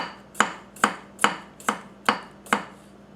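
A Masakage Shimo kitchen knife chops through a carrot on a cutting board with six crisp, evenly spaced strikes, close and clear with no talking.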